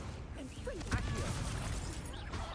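An Accio summoning spell cast in the Hogwarts Legacy video game: a swishing magical whoosh with a sharp impact burst near the middle, followed by shimmering tonal sweeps over a busy game background.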